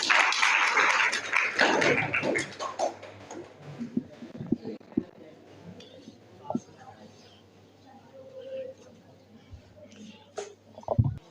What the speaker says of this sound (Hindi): रोशनी के लिए एक बार आप लोग तालियां बजाइए